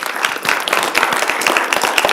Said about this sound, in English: we're going to give you one more round of applause